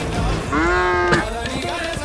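A person imitates a cow's moo, giving one loud, drawn-out lowing call with rising harmonics, close by and alone, with a short burst of other noise at the end.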